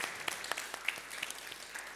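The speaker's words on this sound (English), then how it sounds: "big applause." A conference audience at a patient safety meeting breaks into steady applause, many hands clapping at moderate distance, with a few sharper individual claps standing out.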